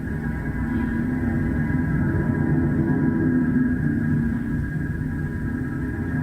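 A nearby aircraft engine run on an airport apron, heard from inside a room with the windows shut, gives a steady, loud low rumble with a faint constant whine that holds unchanged throughout.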